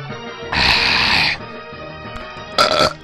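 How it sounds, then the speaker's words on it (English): A man playing Pokemon HeartGold burps twice near the microphone, first a long, loud, rough belch and then a shorter one about a second later, over quiet game music. "I just burped"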